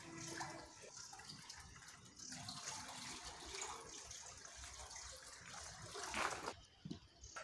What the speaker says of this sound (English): So the water is transferred from upstream side canal to downstream side channel.